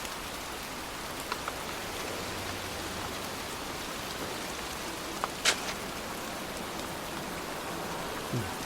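Steady rain falls in the video game Heavy Rain, a constant dense hiss with a few faint sharper drips and knocks, sounding alone without voices.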